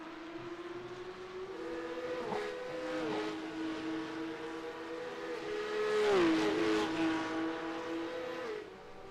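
Porsche race cars in a Porsche Cup race at Zolder in a racing video game, engines droning steadily with rising and falling pitch through gear shifts, several cars close together and loud throughout, no talking.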